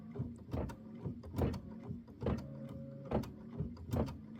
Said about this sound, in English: hold my start button, and that's going to stitch really, really slowly